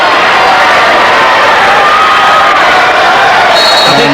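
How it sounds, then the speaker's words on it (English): Australian fans in a stadium cheering and shouting at a 1997 Junior World Cup hockey semi-final, a loud, dense roar of crowd noise held throughout, with no clear talk above it. "The din in the stadium has drowned the hooter."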